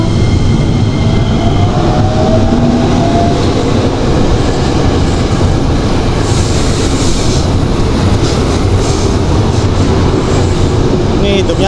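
A KRL commuter electric train bound for Jakarta Kota passes very close and loud, giving a dense continuous roar of wheels and motors with faint squeals and clatter throughout.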